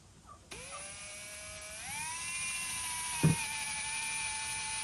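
A power drill drills into a metal part of a 2003 XR100 dirt bike with a high-pitched whine that climbs in pitch and holds steady, with a brief knock partway through.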